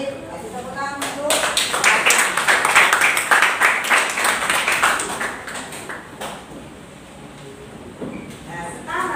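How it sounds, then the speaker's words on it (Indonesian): A classroom of pupils claps hands together in a lively burst of applause that builds and then fades over several seconds, with a voice talking near the end. "Kasih tepuk tangan dulu"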